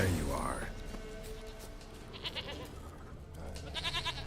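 Goat bleating in The Witcher 3 video game, a few short wavering bleats over ambient game sound and a low voice, fairly close.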